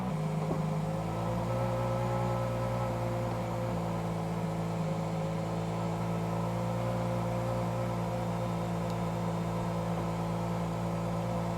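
A convertible V12 supercar's roof being raised, its mechanism giving a steady, even motorized hum with a faint tonal whine, close and continuous throughout.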